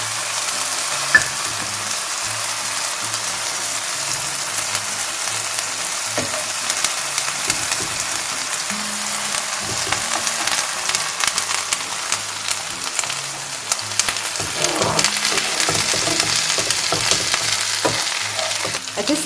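Grated onion sizzles and fries in a pan for a deipish pizza sauce, a steady crackling hiss broken by scraping and clatter as it gets stirred, close by and without talk.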